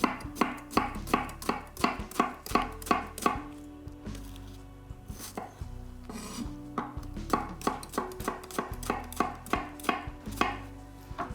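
A knife chops a brown onion on a cutting board for risotto carbonara in a kitchen, making crisp, rapid, evenly spaced thuds close by in fast bursts with a brief pause midway.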